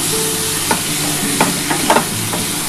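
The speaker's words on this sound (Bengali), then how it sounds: "ভালো করে কিন্তু মশলাটা কষাতে হবে" Spice masala stirred and sautéed in a pan for a curry, a steady hiss of frying with a few sharp clinks of the spoon against the pan.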